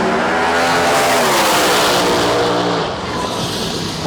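Supercharged ProMod drag race car, a Mech Tech Corvette, roaring loud and close at full throttle with a harsh, dense engine blare that eases slightly toward the end.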